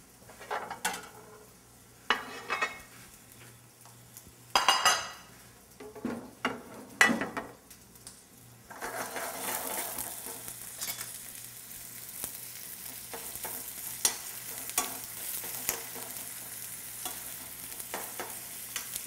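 Onion cooks in olive oil in a pan, with a few scraping stirs and utensil knocks at first, then a steady, broad sizzle that fills the rest of the time with small crackles and occasional clinks.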